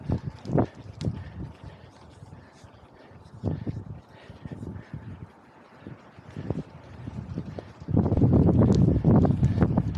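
A headwind buffets the microphone of a road cyclist climbing a mountain road in Friuli, coming in rumbling gusts that swell and drop, turning into a loud sustained roar near the end.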